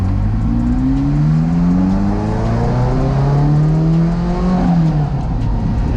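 A Ferrari F40 engine, just warming up with cold gear oil, accelerates hard and close, its pitch climbing steadily through a loud, continuous roar.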